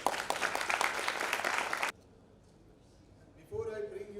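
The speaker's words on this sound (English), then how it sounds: "occupy their seats on the dais with a big round of applause from students" Students applaud the guest speaker and moderator at a cricket talk, a dense burst of clapping for about two seconds that stops abruptly, followed by quiet and then a voice beginning to speak.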